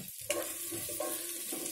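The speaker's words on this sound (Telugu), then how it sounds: "ఆనియన్స్ వేగుతున్నాయి కదా, ఇంకా వేగాలి" Onions frying in a pan with salt for an egg and peanut masala curry, a soft, fairly quiet sizzle with a couple of brief stirring scrapes, close up and without speech.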